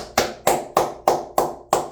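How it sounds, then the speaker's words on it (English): Six sharp, evenly spaced hand claps from a single person, close and alone, with no voices. "Round of applause to Austin Jackson."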